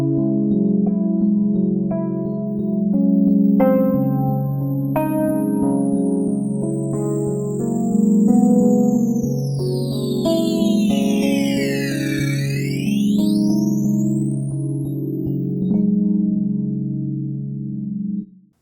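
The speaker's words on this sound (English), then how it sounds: "in the digital mode, it sounds more like a bit crusher." UVI Thorus XT chorus plugin in its digital mode gives a grainy, bit-crushed texture to a sustained chord, while a bright high tone sweeps down and back up near the end, all without talk.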